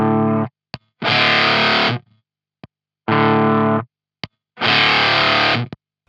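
An electric guitar runs through a Poison Ivy octave fuzz pedal, giving three loud, buzzy distorted bursts separated by silences, with short sharp clicks between them.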